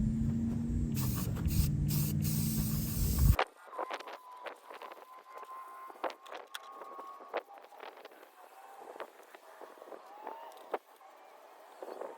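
Primer is sprayed onto military bridge plates outdoors: a loud continuous aerosol hiss with brief interruptions for about three seconds, then quieter scattered clicks, taps and faint handling noises.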